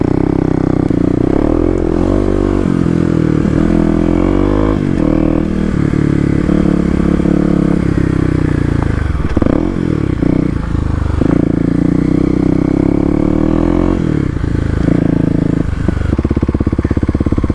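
Kawasaki KLX250 dirt bike ridden off-road on unfamiliar dirt terrain, its single-cylinder engine loud and close throughout with repeated revs and throttle swells, plus clattering and scraping from the rough ground.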